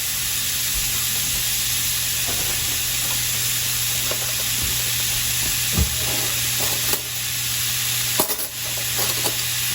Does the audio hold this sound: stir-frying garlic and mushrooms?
yes